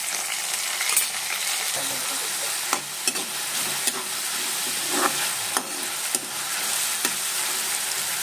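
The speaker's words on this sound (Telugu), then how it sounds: "ఇలా ఉల్లిపాయలు మంచిగా వేగినాక ఇందులో అల్లం వెల్లుల్లిపాయ పేస్ట్," Onions and ginger-garlic paste fry in a pan, giving a continuous close hiss and sizzle broken by several sharp stirring scrapes and clicks spaced through the clip, with no talk.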